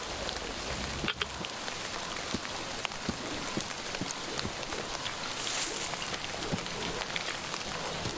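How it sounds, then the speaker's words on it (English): Steady heavy rain in the video game Metro Exodus pattering on surfaces all around, a dense continuous hiss with scattered sharper drops, no voices. "It's raining hard here."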